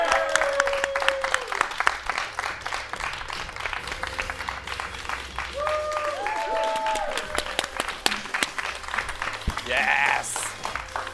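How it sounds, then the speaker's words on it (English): Applause from a live podcast audience at the London Podcast Festival, a steady wash of clapping that runs throughout, with cheers and whoops rising over it and a few voices calling out. "How about a round of applause for a former Progress Women's Champion?"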